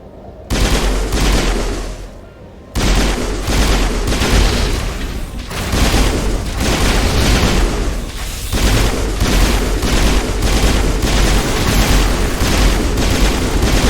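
Pistol fire in the video game Mass Effect Legendary, a steady run of loud, sharp shots in quick succession that keeps going almost nonstop over a combat backdrop with no voices.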